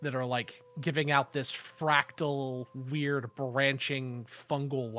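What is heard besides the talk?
No everyday noise stands out behind the speech.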